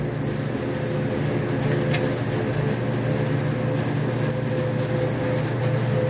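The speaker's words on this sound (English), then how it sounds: "Excuse the noise, I'm in an active mechanic shop here" Steady mechanical hum and drone filling an active mechanic shop, with a constant low machine tone and faint clanks in the background, continuous and moderately loud without speech.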